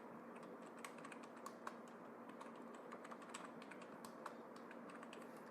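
Someone types on a computer keyboard while entering text into a spreadsheet cell, a steady run of quick, light key clicks at close range, faint and alone over a soft background hiss.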